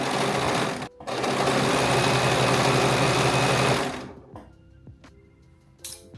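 A serger sewing machine runs steadily at high speed, stitching the sleeve of a cropped varsity T-shirt, with a brief pause near the start before stopping and a few short bursts and clicks.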